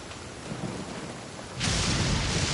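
Steady rain pours in the Genshin Impact video game, with low rumbling thunder underneath; around halfway through the downpour suddenly swells much louder and closer, a dense hiss with no voices.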